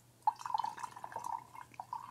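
Yeast nutrient dissolved in a little water is poured into mead must, a soft close trickle with small splashes and drips running for about two seconds at low volume.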